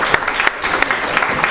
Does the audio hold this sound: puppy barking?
no